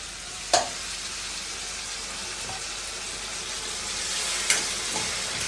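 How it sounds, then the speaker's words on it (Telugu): Tomatoes fry in a pan for a fish curry, giving a steady broadband sizzle throughout, with a couple of brief sharper pops and stirring clinks over the continuous hiss. "కానీ బాగా ఫ్రై చేసుకోవాలండి"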